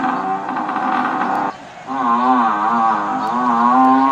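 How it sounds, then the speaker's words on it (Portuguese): A buffalo lowing in long, nasal, snorting moos, one call breaking off briefly around the middle before a second sustained bellow; loud and close, with no other sounds. "E este é o som do Búfalo, animal,"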